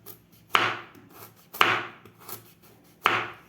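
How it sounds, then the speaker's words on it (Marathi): A knife chops carrots into small pieces for a carrot sweet, with three crisp, evenly spaced thuds on the board and quiet gaps between them. "अशा प्रकारे सगळ्या गाजराचे आपल्याला अशा प्रकारे तुकडे करून घ्यायचे आहेत।"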